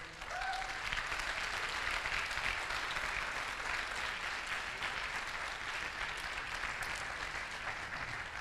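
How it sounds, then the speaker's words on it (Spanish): Church congregation applauding during a sermon, a continuous wash of many hands clapping that stays even and fairly distant throughout, with no talking. "Denle un fuerte aplauso al Señor."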